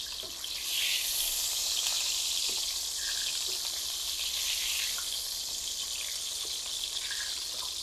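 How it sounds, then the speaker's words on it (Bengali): Four eggs seasoned with a pinch of turmeric fry in a pan, giving a steady, close hissing sizzle that holds throughout with no talking. "ডিমগুলো একটু সুন্দর করে ভেজে নিতে হবে।"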